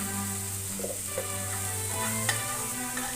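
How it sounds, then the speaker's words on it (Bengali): Ground cumin, ginger paste and turmeric sautéing in a pan for a fish-head vegetable dish, a soft steady sizzle with occasional stirring taps, fairly quiet beneath a faint tonal hum. "খুব ভালো করে নেড়ে চেড়ে কিছুক্ষণ সময়ের জন্য কষিয়ে নেব"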